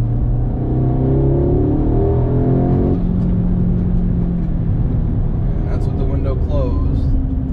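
A VW MK8 fitted with an APR outlet pipe and tunnel brace holds its engine at about 3,500 RPM, producing a loud, steady droning hum that stays constant throughout.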